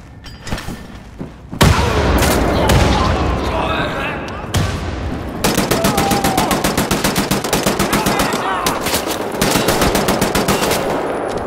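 Assault rifle fire in Wolfenstein: The New Order: a few heavy shots, then long rapid automatic bursts, loud and close, with someone speaking between and over the firing.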